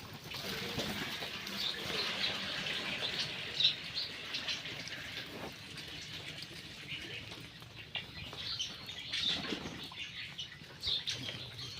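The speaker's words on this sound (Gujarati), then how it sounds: "આ બધા કબૂતર વરસાદના પલ્લી ગયા" Rain-soaked pigeons flutter and flap their wings in bursts, with soft chirps and light pattering around them, close by and faint, with no talking.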